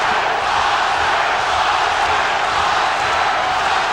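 A large arena boxing crowd roars loudly and continuously during the Oscar De La Hoya vs Pernell Whitaker fight at the Thomas & Mack Center. The sound is a dense wash of voices, with the chanted name hard to make out.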